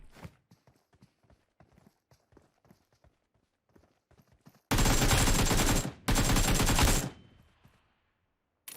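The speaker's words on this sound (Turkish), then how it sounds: "O bir ayak sesi daha duydum." Rapid footsteps sound in a shooter video game, a quick run of soft, evenly spaced steps, followed by two loud, sustained bursts of automatic gunfire.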